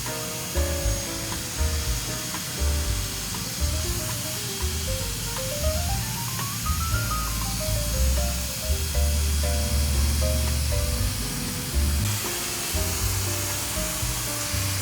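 Dyson Airwrap multi-styler from 2022 blowing air through hair at medium speed and low heat, a steady loud airy whoosh with a fluctuating motor whine and rubbing under it throughout.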